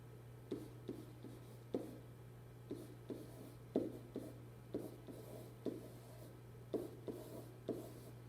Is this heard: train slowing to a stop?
no